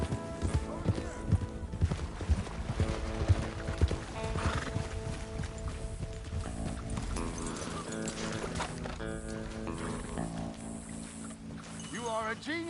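In a PS4 video game, a horse neighs and whinnies while its hooves clip-clop along, mixed with splashing water and a game soundtrack, with voices speaking over the action.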